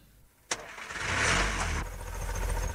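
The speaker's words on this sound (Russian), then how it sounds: "Я снова завел мотор." A car engine cranks with a sharp click, then catches and settles into a steady idle, fairly close and loud, in a 1961 radio play.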